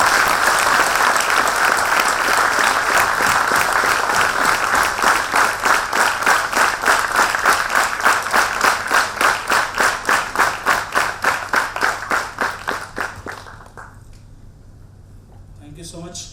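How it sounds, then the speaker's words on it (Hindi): Audience applause at an evening interview event, loud and sustained for about thirteen seconds, breaking into rhythmic clapping before it fades and stops, leaving a quiet room. "आपकी तालियों की गड़गड़ाहट बनी रहे."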